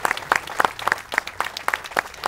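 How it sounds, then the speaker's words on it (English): A small crowd claps steadily and evenly for a couple of seconds, a dense patter of hands at moderate volume. "just let's give another round of applause to Kathy"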